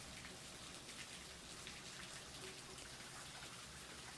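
Steady cold rain falls outside, a dense even hiss of drops on surfaces that carries on unbroken throughout with no voices.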